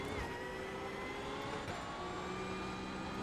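Race car engine from the iRacing sim racing game during a hot lap, a steady sustained engine tone with shifting harmonic pitches, continuous and fairly loud with no talking.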